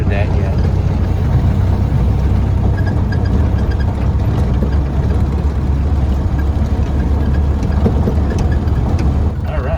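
A 1931 Ford Model A pickup engine drones steadily while driving, a loud continuous low rumble with road noise that stays constant throughout.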